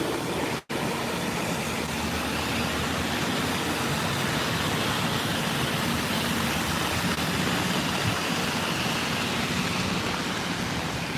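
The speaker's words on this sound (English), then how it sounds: "Damn trucks." Trucks roll past on a city street in New York during Tropical Storm Fay, a steady broadband traffic rumble mixed with rain noise, continuous and fairly close.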